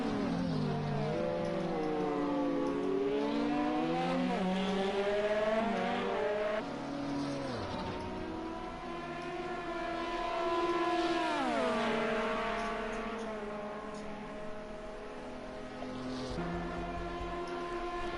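Toyota race cars battle side by side at Le Mans in Project CARS 2, engines droning and rising and falling in pitch through gear changes, overlapping motors sustained at steady loudness.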